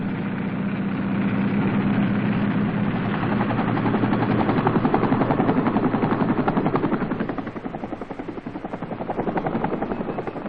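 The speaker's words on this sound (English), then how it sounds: "casualties are evacuated by helicopters known in Vietnam as dust-off" A dust-off medical evacuation helicopter in 1968 South Vietnam, its rotor chopping in a fast, steady rhythm over a low engine drone, close and loud throughout with a slight swell and fade.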